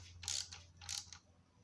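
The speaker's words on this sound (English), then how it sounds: "And then just give them a little nip up, and then I'm satisfied that the back plate is tightened onto the block." A ratchet wrench nips up the bolts on the back plate of a 1967 Wolseley 6/110 engine, two short bursts of close, quiet clicking over a low steady hum.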